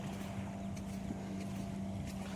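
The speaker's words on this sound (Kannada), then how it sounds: "ಮೀನುಗಾರ ದೋಣಿ ಎಲ್ಲ ಬರ್ತಾ ಉಂಟು." A fishing motorboat's engine drones steadily and low over open water, with a light wash of wind and no voices.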